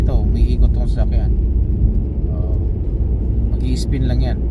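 A car's tires spin and churn in deep snow, a steady low engine rumble with whining wheel noise running throughout at close range, while someone talks over it.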